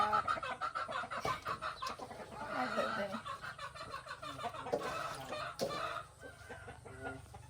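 A busy flock of chickens clucking and squawking continuously, dense and close, with overlapping calls and no pauses.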